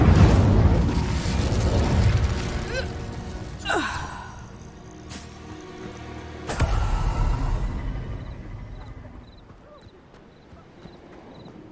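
Expulso and Confringo spells in Hogwarts Legacy go off as a series of whooshing magical blasts and booming bursts spread across the stretch, loud at first and then fading into a quieter tail.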